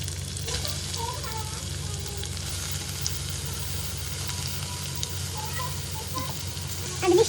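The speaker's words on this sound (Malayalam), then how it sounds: "അരിഞ്ഞ് വെച്ചേക്കുന്ന കുറച്ച് സവാളയും കൊച്ചുള്ളിയും കൂടി ആഡ് ചെയ്യുന്നുണ്ട്." Chopped onions, shallots, garlic and ginger frying in coconut oil in a pan for a Kerala beef curry, a steady close sizzle throughout with a louder stir or clatter at the very end.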